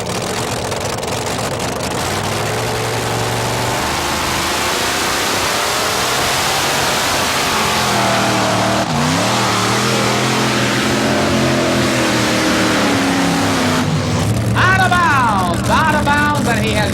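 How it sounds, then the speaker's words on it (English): A modified pulling tractor running alcohol fuel through supercharged dragster engines roars loudly and continuously, its pitch climbing and wavering under strain as it pulls at a 1987 tractor pull event, with an announcer talking over it. "The name, of course, is derived from the alcohol-based fuel used by the modified tractors"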